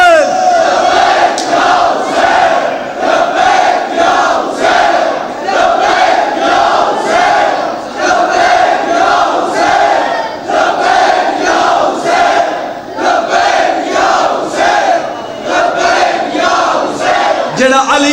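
A large religious gathering at an imambargah chants Labbaik ya Hussain in unison with raised hands, rising in loud, rhythmic, repeated shouts that fill the space and carry on without a break.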